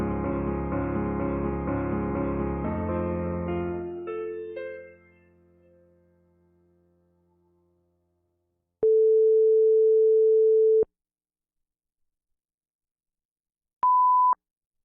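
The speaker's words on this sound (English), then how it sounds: "We'll have a long tone at 10 seconds before, followed by a short one at 5 seconds." Radio time-check tones close a broadcast: a long steady beep sounds after music fades out, followed by a short, higher beep a few seconds later.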